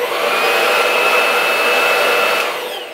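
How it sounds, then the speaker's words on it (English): A Qi hair dryer on its low setting blows a steady, close whoosh with a thin high whine running through it, holding level for a few seconds before easing slightly at the end. "I have a Qi hair dryer here, so let's go ahead and compare the difference of the sounds"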